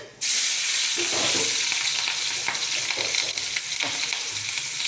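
Food sizzles and fries steadily in a hot pan while being stirred and sautéed, a loud, continuous crackling hiss with occasional scraping, no voices.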